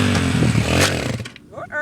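A 110 dirt bike engine revs hard in a short, loud, buzzing burst that climbs in pitch, then cuts back and fades out quickly.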